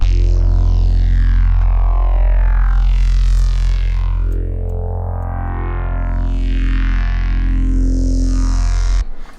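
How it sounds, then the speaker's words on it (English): A loud, heavy synthesized reese bass drone with a deep sub-bass floor and sweeping, phasing upper harmonics that swirl and shift, ending abruptly. "Now we're getting a good, nice, solid sub bass"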